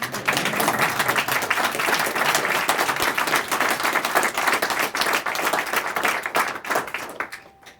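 Dense, steady audience applause at a Medal of Freedom ceremony fills the room for several seconds before tapering off at the end.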